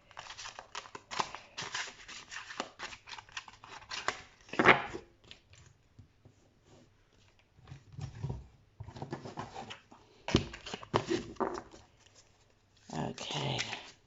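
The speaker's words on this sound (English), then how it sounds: "let me just shuffle these cards back" Tarot cards being shuffled in bursts of crisp riffling and flicking, with pauses between handfuls, close and moderately loud, and quiet talk around the shuffling.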